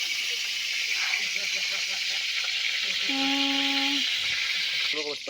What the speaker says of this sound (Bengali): একটু জল ছিল হাতায় খুন্তিটার মধ্যে, সেই জন্য জলের ছিটুটা লাগছিল